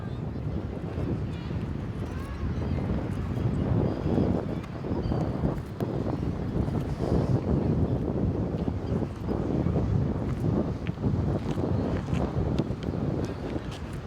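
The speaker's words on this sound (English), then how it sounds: "it's not a little windy, it is insane windy" Strong gusty wind buffets the microphone in a loud, continuous low roar that swells and eases, with faint sounds from the surroundings beneath it, in Rotterdam.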